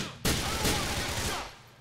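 Pistol gunfire in GTA IV: a sharp, loud shot cracks out after a quiet opening, a second report follows, and a dense, booming tail of echoing gunfire decays across the rest of the burst.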